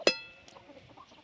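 Chickens clucking in a Maharashtrian home kitchen area: one loud, sharp squawk right at the start, then faint, scattered clucks trailing off in the background.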